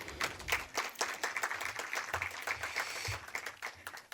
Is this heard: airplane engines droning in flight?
no